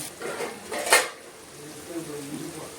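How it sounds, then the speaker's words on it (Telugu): A metal pot with mutton keema gets its lid set on, giving one bright clink amid softer clatter of cookware, with faint background voice. "కలిపి మూత పెట్టి మూత వేసుకుంటుంది."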